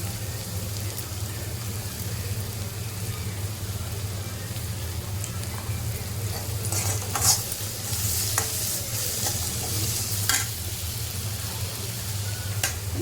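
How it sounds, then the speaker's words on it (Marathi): Onions with red chili powder and salt being stirred and sautéed in a pan, a steady soft sizzle with occasional spoon scrapes and clinks, no talking. "आता याच्यामध्ये तुम्हाला पण व्यवस्थित परतून घ्यायचं आपण"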